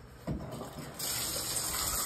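Tap water runs steadily, starting with a brief splash and then settling into a constant rushing flow close by, with no talking.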